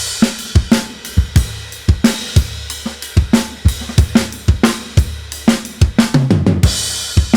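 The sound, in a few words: drums with parallel compression from a Fairchild 670 tube compressor emulation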